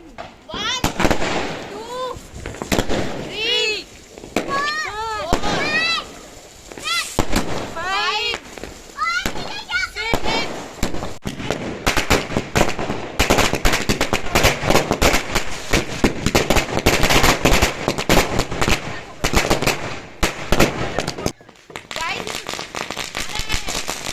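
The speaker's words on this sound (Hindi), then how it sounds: "ये आप बड़े वाले पटाखों की बारी आई है।" Big firecrackers bursting during Diwali celebrations, amid smoke in a street setting: loud, rapid crackling bursts and booms dense through the second half, with whistling rockets and voices talking earlier on.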